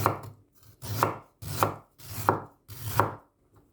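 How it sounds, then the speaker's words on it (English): Five evenly spaced knife chops through ginger on a cutting board, each a sharp close thud with a short crunchy tail, separated by brief silences. "Slice some ginger."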